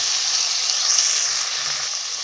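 Tomatoes sautéing in a pan with ginger and garlic for a mutton bone soup give a steady, fairly loud hiss of sizzling that holds evenly throughout with no voices.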